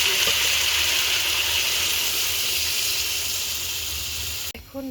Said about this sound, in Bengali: আমি তরকারিতে ঝোলের জন্য পরিমাণ মতো পানি দিয়ে দিচ্ছি।